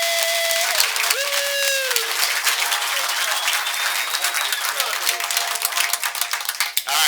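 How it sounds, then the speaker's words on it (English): An audience at a congressional district candidate forum applauds the candidates with a sustained, dense round of clapping that stays loud throughout, with faint voices and whistle-like tones over the top. "let's have a round of applause for all the candidates."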